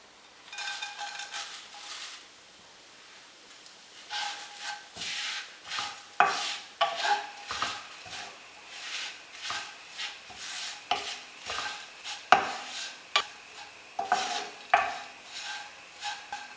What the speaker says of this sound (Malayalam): ഈ നെയ്യിലേക്ക് തന്നെ നമുക്ക് അവലിട്ട് ഒന്ന് റോസ്റ്റ് ചെയ്യാം